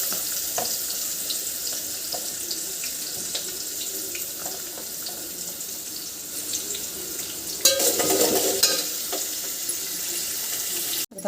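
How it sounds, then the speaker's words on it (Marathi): Chopped onion frying in hot oil with mustard seeds in a tempering for masala khichdi, a steady close sizzle with light stirring scrapes and a louder burst of hissing toward the end. "कांदा छान असा परतून घ्यायचा आहे फोडणीमध्ये।"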